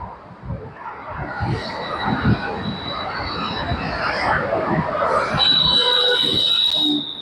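A metro train rumbles past with broadband roar and a rising metallic whine near the end, steady and fairly loud, over busy background noise.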